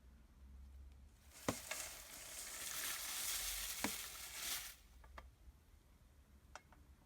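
Toasted coconut, 250 grams, poured into a homebrew beer, giving a broad rushing hiss for a few seconds with sharp clicks at start and end; no talking over it.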